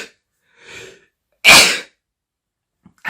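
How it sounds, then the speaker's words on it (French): One loud, abrupt sneeze close up, preceded by a soft intake of breath, with quiet surroundings before and after. "je crois que je vais éternuer."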